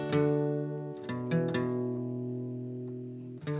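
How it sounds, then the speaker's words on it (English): An acoustic guitar fitted with a capo is tuned on a live concert stage, with several plucked notes and strums ringing out and sustaining cleanly in a quiet room. "Just tuning with a capo"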